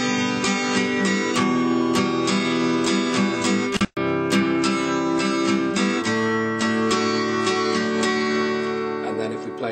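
Acoustic guitar strummed in a repeating rhythmic pattern, with chords struck in steady down-and-up strokes, a brief gap near the middle, then more strumming, loud and close throughout.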